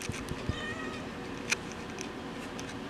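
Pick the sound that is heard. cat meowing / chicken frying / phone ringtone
cat meowing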